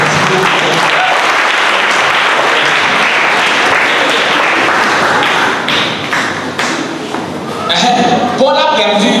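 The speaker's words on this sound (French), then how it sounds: "Ok, applaudissez pour vous." An audience at a French-language talk applauds loudly, a dense burst of hand clapping that dips briefly and then picks up again as a voice begins speaking over the end.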